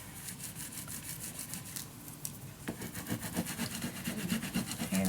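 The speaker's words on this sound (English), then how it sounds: "burnish it down, so you can burnish it down 2 at once" Paper being burnished flat with a tool while assembling a handmade magic box, giving steady close scraping and rubbing strokes throughout, growing slightly louder toward the end.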